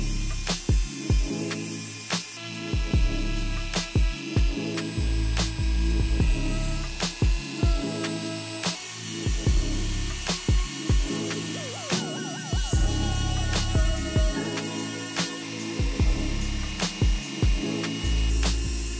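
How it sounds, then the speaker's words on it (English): A Dremel rotary tool grinds residue off the sole of a 37-year-old Nike Air Force 2 sneaker, a loud, close, continuous whine broken by repeated short bursts and pauses as it bites into the rubber. "we're gonna have to use a Dremel to Dremel it off"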